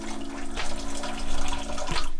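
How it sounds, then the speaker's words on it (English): A kettle of boiling water pours into a bathtub in a tiny house bathroom, a steady close splashing and gurgling stream with a low hum underneath, with no talking. "then I put a kettle of boiling water in."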